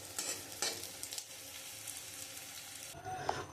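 Whole garam masala, bay leaf, dried chilli and cumin seeds crackle and hiss in hot oil, a steady broadband sizzle with a couple of sharper spits near the start, moderately quiet and close.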